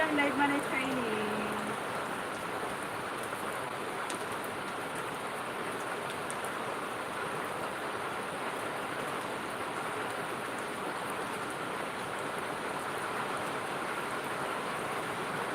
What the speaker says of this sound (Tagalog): magpapaulan sana ako sa ulan